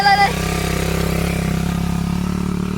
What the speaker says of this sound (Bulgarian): Кристи, вече си готов с твоя мотор